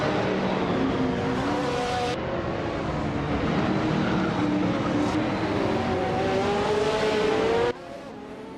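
Race cars in a racing video game roar continuously at high volume, engines whining and shifting pitch as they accelerate, with a brief cut in the sound near the start and a sudden drop to a quieter hum at the end.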